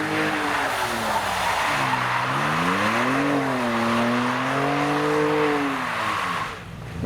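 Road-legal Le Mans car doing a burnout, with a continuous loud tyre squeal that wavers in pitch over a roaring engine for several seconds before easing off at the end.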